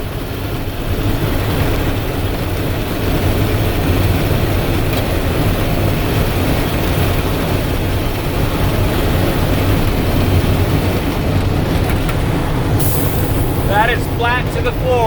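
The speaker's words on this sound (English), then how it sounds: "That is pedal flat to the floor." A 1998 Freightliner FL70 truck with an 8.3 Cummins engine runs pedal to the floor in high gear near governed speed, its loud steady engine drone and cab rumble continuing throughout, with a brief higher hiss near the end.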